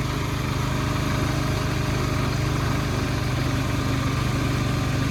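A diesel-swapped 1970s Sears lawn mower engine runs in gear, producing a steady, loud, rhythmic low chugging drone with no break.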